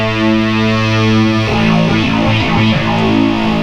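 Moog Minimoog/Poly D analog synthesizer run through a chorus effect: a held, buzzy tone for about a second and a half, then shifting, wavering notes with a thick, swirling, distorted texture, loud and continuous with no voices.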